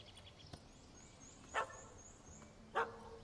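Two short barks from a dog in The Witcher 3, spaced more than a second apart, heard at moderate distance over quiet ambient background.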